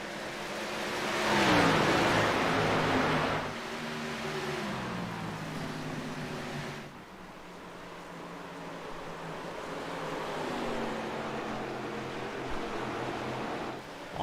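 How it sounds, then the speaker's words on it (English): ARCA-style stock cars race at Phoenix with droning, pitch-shifting engine whines passing in waves. They swell loud early, then settle into a steady distant roar from a mixed field. "Guess it'd help if you can hear the cars, I'm sure."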